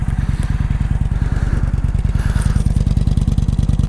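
A Kawasaki Vulcan 900 Classic motorcycle idling close by, its V-twin engine throbbing in a steady, fast, loud low pulse with mechanical clatter on top and no talking.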